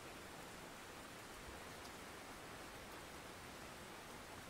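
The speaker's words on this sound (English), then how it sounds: "It's raining," Steady rain in the video game Russian Fishing 4, a continuous broadband hiss of falling water with no distinct drops standing out, quiet and unbroken throughout.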